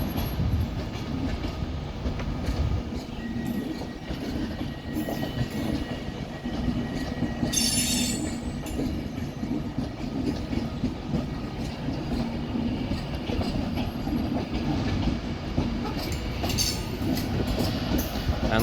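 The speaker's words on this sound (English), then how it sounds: "we're going to have 390-045, which is forming the 1335 Avanti West Coast service to London Euston, and that is departing there" An Avanti West Coast Class 390 electric train pulls out of Manchester Piccadilly on its way to London Euston, with a continuous loud rumble and wheel noise, brief high squeals of the wheels and a steady roar throughout.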